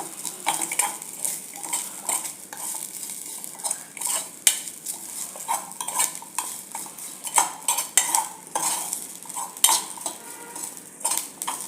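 Dry coconut and onion being stirred and roasted in a pan, with a spoon scraping and clinking against metal in a steady, close rhythm and a soft sizzle underneath.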